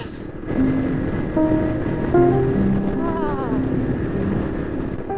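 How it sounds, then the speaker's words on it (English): Strong wind roars and buffets against a motorcycle rider on a road in Norway near Nordkapp, a loud continuous rumble with a voice and faint tones rising above it. "I can also feel how windy it is because we're battling with it so hard right now on this road"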